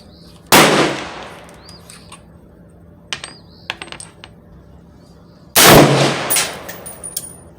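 An LFA LR precision rifle fitted with a Burris Fullfield E1 4.5-14x42 scope fires two loud, sharp shots several seconds apart, with small clicks and metallic handling taps in between.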